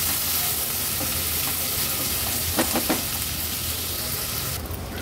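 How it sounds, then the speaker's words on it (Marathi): Chopped onion frying on a low gas flame for a Marathi veg thali, giving a steady close sizzle throughout with a few brief scraping stir sounds near the middle and no voices. "गॅसची फ्लेम लो करते आणि लो फ्लेमवरच कांदा शिजवून घेते"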